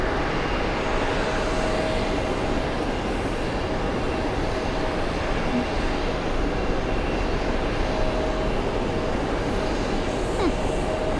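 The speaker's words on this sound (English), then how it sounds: "Nigerian military Gulfstream taxiing across the 24s" Steady, loud jet engine rumble and whine from a Nigerian military Gulfstream business jet taxiing at JFK airport, continuous and even throughout with no talking.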